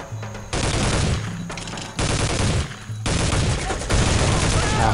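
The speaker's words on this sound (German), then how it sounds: "Baller da unten mit Granaten um sich." Sustained gunfire and grenade blasts in the shooter game Soldier of Fortune II, dense bursts filling the whole stretch with brief gaps, loud and close.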